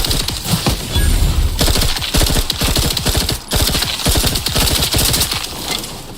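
Rapid automatic gunfire rattles nonstop in The Outer Worlds 2, a loud, dense fusillade of shots in quick rhythmic bursts, briefly broken by a short gap and then resuming just as fiercely.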